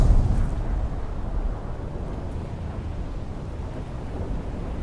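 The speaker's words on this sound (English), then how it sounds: "Spice explosion." A spice explosion in the video game Dune Awakening: a deep, heavy rumble that starts loudest, then settles into a sustained low roar that fades slowly, with no voices.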